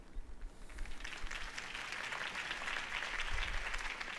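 Steady applause from a large crowd, many hands clapping continuously and evenly throughout.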